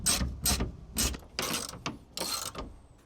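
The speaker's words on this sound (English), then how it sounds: "come here with your 13 millimeter and just get it nice and good hand tighten" A 13 mm ratchet wrench hand-tightens bolts on an aluminum truck bed rail, with five or six quick close bursts of ratcheting clicks separated by short pauses.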